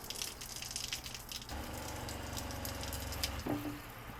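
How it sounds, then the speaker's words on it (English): A water pump and tap are running in a Renault Master van conversion: a steady hum from the pump under rushing water for a few seconds, then a brief rattling clunk as the flow changes near the end. "the power is on for the pump, and we can point the tap outside and turn the water on"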